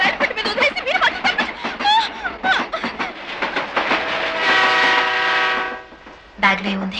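A train runs past with a rattling rhythmic clatter, then a long loud horn blast holds for over a second before the rolling noise returns, close and prominent.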